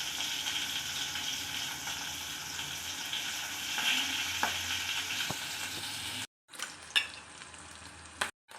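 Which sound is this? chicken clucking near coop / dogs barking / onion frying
onion frying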